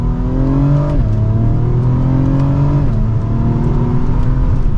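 A 2024 Acura TLX Type S engine revs hard and loud in Sport Plus mode, pitch climbing then dropping abruptly twice as quick upshifts snap through the gears under steady acceleration.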